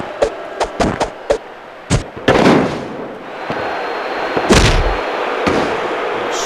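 Weapon shots in a Crash Team Racing battle: a quick run of sharp, dry pops, then louder blasts crack out with brief rumbling tails over a steady game backdrop.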